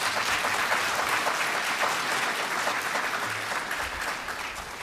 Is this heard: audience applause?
yes